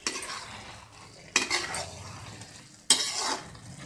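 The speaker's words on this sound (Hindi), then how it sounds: "अच्छे से मिक्स कर देती हूँ।" A spoon scrapes and stirs cream into carrot halwa in a pan in three sharp, close strokes, with soft sizzling in between and no talk.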